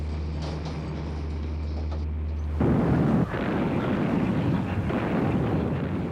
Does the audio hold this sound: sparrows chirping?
no